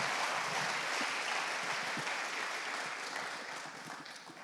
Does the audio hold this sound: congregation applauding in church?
yes